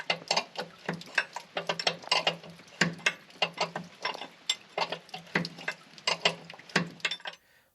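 Ratcheting and clicking metal on a Chinese Rippa mini excavator as the track tensioner is tightened, a steady run of close, sharp mechanical clicks and clanks repeating for several seconds alone, then stopping.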